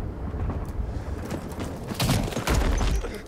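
Gunfire in the World War I shooter Battlefield 1, heard as a dense, continuous rattle of shots with heavier bursts and booms toward the end, filling the whole stretch without any talk.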